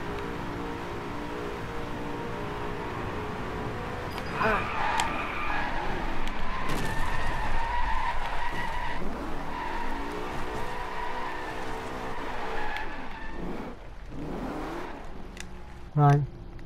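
A race car in the video game Drive Club drones steadily through a lap, with its engine swelling and tires squealing in short skids during the middle stretch, and a sharp knock near the end.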